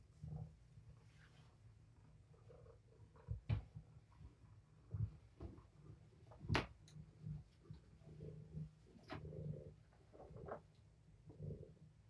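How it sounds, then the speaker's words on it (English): A mother cat purring close by, a quiet rhythmic low rumble that pulses in soft bursts with a few brief rustles, no voices. "Yes, that's Mama purring"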